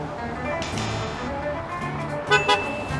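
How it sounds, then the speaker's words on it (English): A passing car toots its horn twice at a roadside mascot, short bursts that stand out over steady traffic and road noise. "Let's see if they'll honk for your boy."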